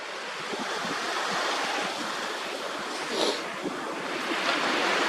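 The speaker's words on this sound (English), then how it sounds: "see where the water's actually lapping up there" Sea water washes against the shore as a steady broadband surf hiss mixed with wind noise on the microphone, with one slightly louder wave surge midway and no talking.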